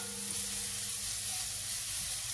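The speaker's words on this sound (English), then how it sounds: "And as that just starts to sizzle away," Garlic frying in a pot, giving a steady close sizzle and hiss that holds even and unbroken for a couple of seconds with no talking.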